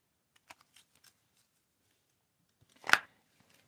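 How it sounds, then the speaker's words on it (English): Deck of cards shuffled by hand, a few faint soft riffles followed by one louder quick burst of flicking cards, otherwise quiet. "I'm going to shuffle, and I'm going to ask you to tell me to stop shuffling"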